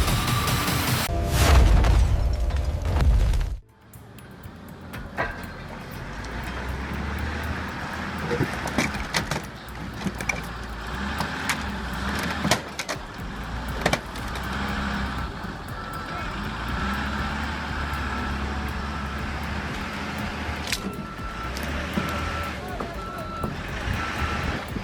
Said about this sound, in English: Industrial crushers tear apart cars, snap steel, and pulverize stone with terrifying precision.